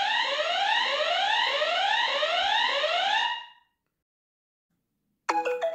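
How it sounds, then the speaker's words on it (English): A GALAYOU 2K outdoor WiFi security camera sounds its siren alarm: a loud, close, repeating upward-sweeping wail for about three seconds, then silence, then a sharp burst of ringing chime tones. "And there's the siren."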